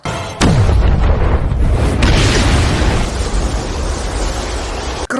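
A huge explosion in an animated martial-arts battle as a glowing creature slams into a sword formation: a sudden loud boom followed by a sustained, roaring blast of rumbling noise that holds for several seconds before cutting off.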